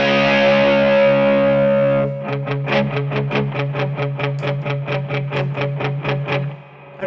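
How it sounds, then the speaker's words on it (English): An electric guitar plays through an Eric Gales Brute Drive overdrive pedal with its mid boost engaged. A sustained distorted chord rings out first, followed by a fast, even run of rhythmic muted picking, thick and loud. "there's this mid-range boost that kind of comes in there, and it just fills the mids up"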